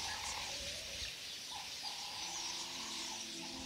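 Small birds chirp and call in the open savanna of the Masai Mara, Kenya, a steady layer of bright, close-sounding twitters with no voices over it.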